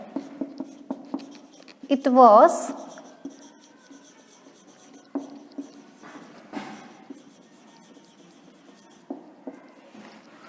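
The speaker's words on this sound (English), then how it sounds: "Let me write the definition." Chalk or pen scratching out a written definition in a classroom, a short burst of writing strokes near the start, with a teacher's voice speaking briefly over it and soft scattered taps afterward.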